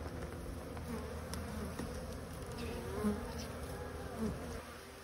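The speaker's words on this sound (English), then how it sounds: "There's bees in here, and this is my frame." Honeybees buzz around an open hive frame in April, a steady dense drone from many insects at close range with occasional louder passes, and no talking.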